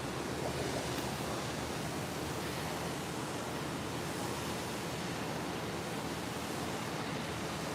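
Ocean surf washing steadily onto a shore, a continuous broadband roar of breaking waves with some wind, loud and unbroken for the whole stretch with no talk.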